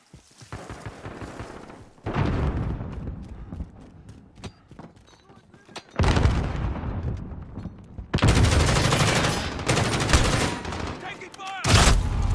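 Bursts of gunfire in a Modern Warfare firefight, several loud rapid volleys separated by quieter stretches of scattered shots, with some voices under the fighting.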